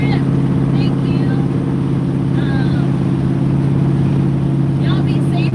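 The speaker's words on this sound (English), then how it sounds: "The truck sounds good." A truck engine idles with a steady low drone from inside the cab, constant and fairly loud, while a person talks over it.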